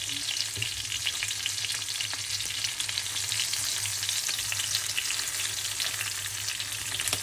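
Sea bream fish frying in a pan with oil, a steady dense sizzle and crackle that holds at an even level throughout, close up with no voices.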